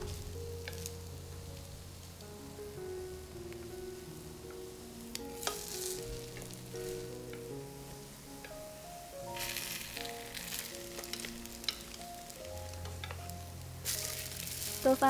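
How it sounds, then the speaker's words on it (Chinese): Slices of egg-soaked bread for French toast sizzle gently in a frying pan, a soft steady crackle heard beneath background music. "然后我们煎1分钟左右，1分钟之后翻面。"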